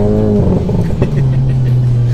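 Tuned VW Golf 7 GTI Performance with a stage 2+ engine, loud and close, the engine note holding steady, then dipping as the revs settle back to a lower drone, with no talking over it.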